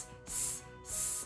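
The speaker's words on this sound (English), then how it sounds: "every time she's spraying her bug" A handheld spray bottle spritzes water onto paper bugs in a preschool activity, two short close hissing bursts separated by a brief pause.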